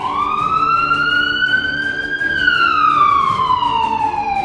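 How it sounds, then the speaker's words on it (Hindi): A wailing emergency siren sounds in Sevastopol, Crimea, after an attack on the naval base, its pitch rising slowly and then falling in one long sweep, loud and steady with a faint low rumble underneath. "इस वक्त सायरन बज रहे हैं"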